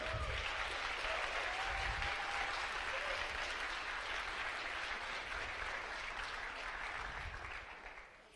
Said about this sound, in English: I would like to have a round of applause for them.